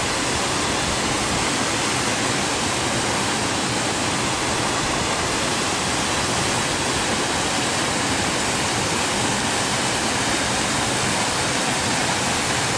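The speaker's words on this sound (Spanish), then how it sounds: "Aquí está la cascada de los temporales." The Cascada de los Temporales waterfall roars steadily and densely, a broadband rush of falling water that is loud and close. It continues without a break for the whole stretch, with no voices.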